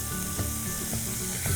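Ginger fries in hot oil in an already heated pan for Indo-Chinese baby corn in ginger sauce, giving a close, steady sizzle with small crackling pops throughout.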